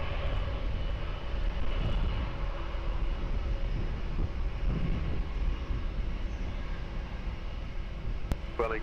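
A commercial airplane landing on runway 20 at Lisbon Airport, its steady broadband engine roar holding at constant loudness throughout, with faint radio chatter underneath.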